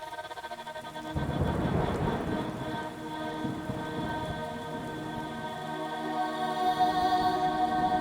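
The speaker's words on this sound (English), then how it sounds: "Really setting the scene with the rain." Steady rain with distant rolling thunder underneath, soft at first then swelling, woven into a music bed with sustained tones.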